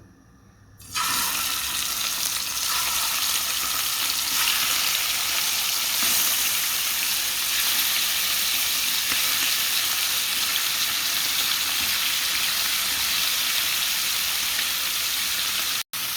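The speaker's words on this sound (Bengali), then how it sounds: "একটু হালকা করে ভেজে নেব।" Pieces of chicken rubbed with chilli powder and salt fry lightly in hot oil, giving a loud, continuous, even sizzle with no speech, cutting off abruptly at the end.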